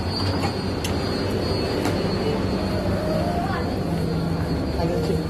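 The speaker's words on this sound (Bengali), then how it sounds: "এটা হচ্ছে মাত্র 3 কামরার 3 কামরার ট্রেন" A small three-car passenger train runs with a steady rumble and faint wheel squeal, a continuous rolling noise with occasional clicks, heard from inside a carriage.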